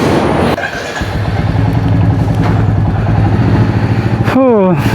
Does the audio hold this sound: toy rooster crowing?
no